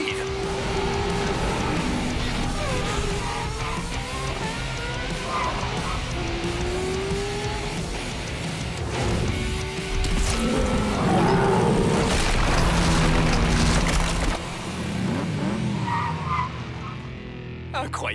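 A car driven hard and fast roars steadily while its tires squeal and skid repeatedly. The engine and tire noise stay loud and close throughout.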